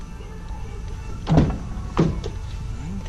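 A 2008 Honda Accord door unlatches and swings open with a couple of close thunks over a steady background hum, with no talking.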